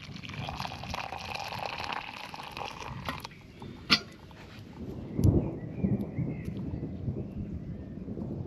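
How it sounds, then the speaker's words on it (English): Thunder from an approaching thunderstorm rumbles outdoors at a camp cooking spot, a long low roll with a sharper crack midway and a louder swell toward the end, over steady background noise. "It's not stopped rumbling for ages."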